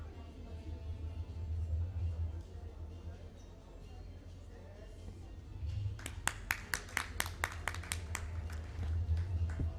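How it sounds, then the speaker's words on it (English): A scattered round of clapping from an audience at an evening awards event, about a dozen sharp claps in a quick burst midway, set against a low murmur of crowd noise and faint talk, all fairly quiet and distant. "Can we please have a round of applause?"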